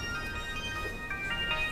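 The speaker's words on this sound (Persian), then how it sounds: "موبایل شما زنگ میخوره؟" A mobile phone ringtone plays a steady, tonal electronic melody at moderate level in a quiet indoor room, with no talking over it.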